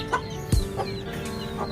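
Chickens in a backyard chicken coop give soft, scattered clucks over steady background noise, with one louder thump partway through and no talk.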